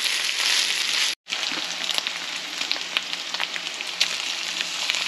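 Wagyu beef goes into a hot pan already holding onion, pork and chorizo, giving a steady, close sizzle with crackling pops and one brief pause near the start.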